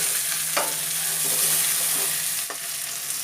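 Tandoori chicken sizzles loudly in a hot pan while being stirred and turned over, with a couple of brief scraping knocks over the steady frying hiss and no one talking.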